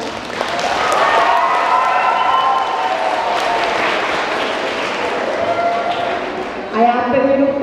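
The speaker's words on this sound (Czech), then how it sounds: "Já si myslím, že si to zaslouží potlesk." Loud audience applause and cheering for contestants on a Czech talent show, a broad crowd roar mixed with clapping that holds steady before a brief dip and a sharp renewed burst at the end.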